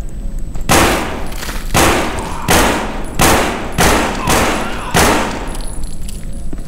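Bursts of loud gunfire in the zombie shooter No More Room In Hell, about six evenly spaced sharp shots, each with a ringing tail, close and dominant.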